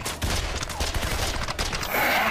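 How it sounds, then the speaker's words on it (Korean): Rapid machine-gun fire in a film scene with alien creatures, dense close bursts rattling continuously for about two seconds, with a hiss rising at the end. "분노를 가득 담아 총알 세례를 퍼붓습니다"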